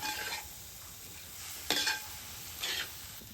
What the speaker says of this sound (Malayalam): അതും നല്ലപോലെ ഒന്ന് ഇളക്കി കൊടുക്കാം.